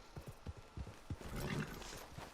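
A horse in the Red Dead Redemption 2 video game clops along with quick, close hoofbeats, then gives a short breathy whinny, with no talking.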